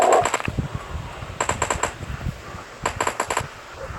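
Three short bursts of rapid gunfire sound in the zombie shooter game Into the Dead. Each burst has several quick cracking shots and is separated from the next by a pause, against a low background ambience with no voices.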